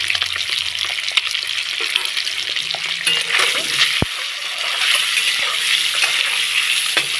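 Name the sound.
boiled eggs frying in oil with salt and turmeric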